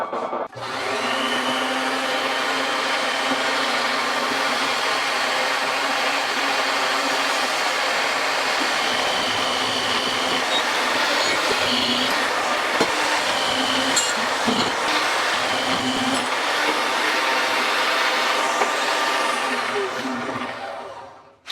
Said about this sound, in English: let's cut this rail off using the bandsaw.